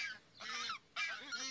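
Newly hatched goslings honking in short high-pitched bursts, two clear calls separated by a brief pause, close and alone with no talk.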